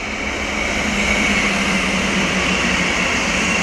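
An electric train crossing a river bridge and embankment makes a steady, broad rumbling roar with a continuous hiss over it, loud and sustained throughout with no clear breaks.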